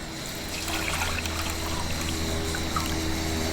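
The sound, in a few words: filling a cup with water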